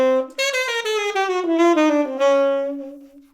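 Saxophone plays a bebop scale enclosure exercise, a quick run of bright, clearly articulated notes descending to a held final tone, played solo and close.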